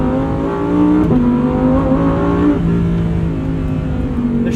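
Lamborghini Huracan V10 engine at full throttle, loud and close, a steady high-revving roar with rising harmonic pitch and a brief dip around each shift of the seven-speed dual-clutch gearbox.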